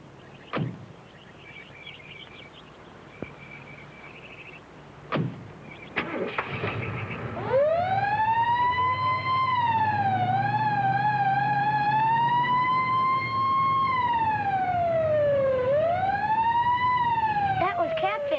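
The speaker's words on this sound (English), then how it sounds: "Will you turn on the siren?" After some clunks and a starting engine, a wailing siren rises and falls loudly and close by, continuing to the end.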